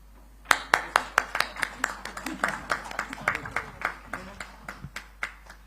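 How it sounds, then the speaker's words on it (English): Steady, rhythmic clapping from an audience at a South India digital summit session for a memento presentation, crisp individual claps repeating for several seconds under a speaking voice. "Please be generous in giving a round of applause"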